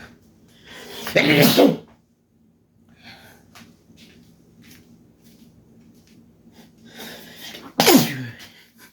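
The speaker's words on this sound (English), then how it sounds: "I run away whenever I sneeze" Two loud, close sneezes several seconds apart, each a sharp explosive burst, with faint breathing and rustling in the quiet between them.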